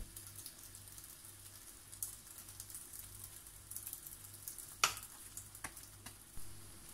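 Chicken-filled batbout flatbreads cook in a pan with a soft, steady sizzle and occasional faint crackles and a sharper click, quiet and close.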